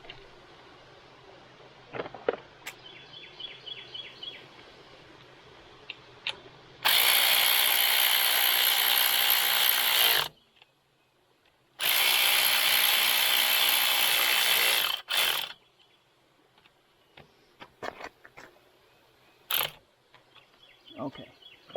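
Ratchet wrench tightening bolts on a homemade trike, with two long bursts of rapid metallic clicking up close, separated by a short pause, then scattered small clanks and handling noises.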